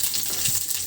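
Chillies fry in hot oil in a wok (karai), with garlic cloves to follow. A brief, steady, close sizzle.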